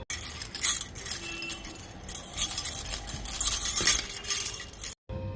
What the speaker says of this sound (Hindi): फिर अचानक किसी औरत की चूड़ियों की आवाजें सुनाई दी।